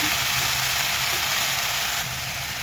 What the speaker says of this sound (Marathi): आपण आता ह्याच्यामध्ये शेपूची भाजी परतून घ्यायची आहे